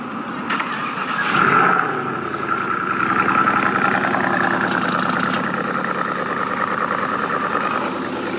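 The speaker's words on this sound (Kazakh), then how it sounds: "Не деген выхлоп." A car engine idles close by with a loud, steady exhaust rumble, swelling briefly early on and then holding an even, throaty drone throughout.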